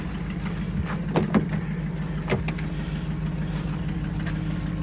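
A family car's engine idling steadily after being put in drive, a low continuous hum with a few faint clicks and knocks, close and alone.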